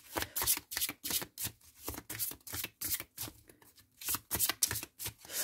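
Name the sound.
tarot cards being shuffled, a card jumping out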